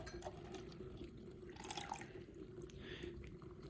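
About 96 grams of water is carefully poured into a lab calorimeter, giving a faint, soft trickle and a few drips over steady low background hum.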